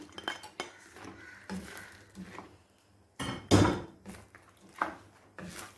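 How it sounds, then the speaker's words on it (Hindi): Fried chicken pieces go into a cornflour-thickened Manchurian sauce in a pan: scattered utensil clinks and scrapes, then one loud, brief burst of hissing mid-way, followed by more clinking and stirring. "अब ये जो मेरी चिकन था फ्राई हुआ मैं ये डाल रही हूँ"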